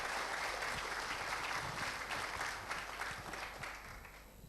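A talk-show audience claps for the moderator, a dense, sustained wash of applause that slowly fades toward the end, heard from within the room.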